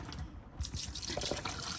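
Water is poured out over a Toyota Yaris engine bay to rinse brake fluid away during a clutch replacement, a steady close splash and trickle running for a couple of seconds.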